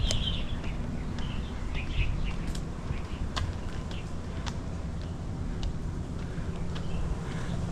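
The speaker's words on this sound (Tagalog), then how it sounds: "Huni pala ng ibon, di reklamo." Birds chirp in short, scattered calls at a moderate distance over a steady low background rumble, with sharp clicks and ticks heard throughout.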